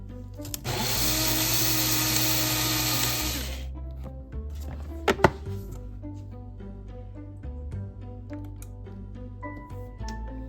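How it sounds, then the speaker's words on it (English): An electric grinder grinds coffee beans for espresso with a loud, steady whirring roar for about three seconds. It then cuts off, leaving quieter tones and a couple of brief clicks. "Gonna grind that up, grind up some of those beans."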